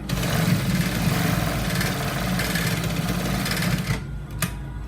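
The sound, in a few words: sewing machine stitching a trouser seam straight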